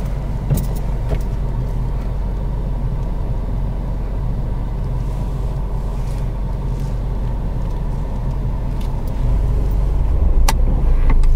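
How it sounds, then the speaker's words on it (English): A car reversing two spaces during a driving test in the rain, giving a steady low engine rumble close by with a faint broadband wash of rain, rising slightly near the end. "Now I'd like you to reverse back two car spaces."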